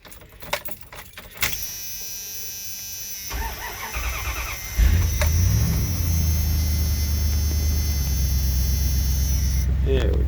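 Keys jangle close by, then a 1992 Dodge W250 pickup's 360 LA V8 cranks and catches on a cold start, settling into a steady, rumbling idle that continues to the end.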